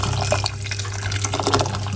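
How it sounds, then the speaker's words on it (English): Hot water poured into a container over sweet potato while cooking a meat-free dinner, a steady close splashing and trickling stream running continuously without any talk. "I'm going to pour some hot water."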